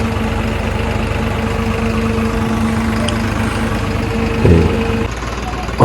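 A tractor engine idles steadily during sarovar work at Gurdwara Sri Tarn Taran Sahib, Sri Muktsar Sahib, with a low, even rumble and a brief knock partway through before the hum continues.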